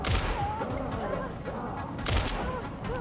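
Handgun shots in Resident Evil Requiem fire as two sharp loud bursts about two seconds apart, set against a dense, noisy game soundscape with speech underneath.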